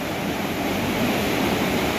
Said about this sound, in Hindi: और पानी की आवाज़ सुने बहुत ज़्यादा है।